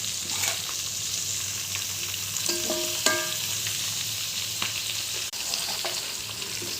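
Goat head curry, Telangana style, fries in hot oil with a steady close sizzle, broken by a few clinks and scrapes of a utensil stirring the pot.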